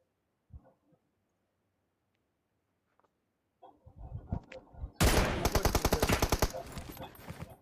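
Rapid automatic gunfire in the mobile battle royale BGMI erupts loud and close after a few faint clicks and quiet stretches, a dense sustained burst that fills the second half.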